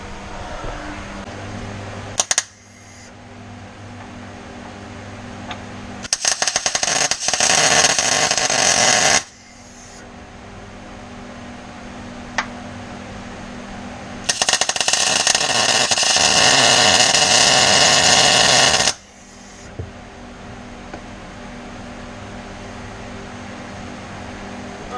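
Tack welds on an anti-roll bar being fitted to a Foxbody Mustang: two separate bursts of loud, steady crackling buzz, each lasting a few seconds, with quiet shop hum between them and no talking.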